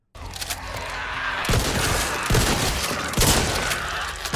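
TAC-14 shotgun firing in the video game Back 4 Blood, a rapid string of loud, booming blasts with sharp cracks at intervals, heard alone and up close.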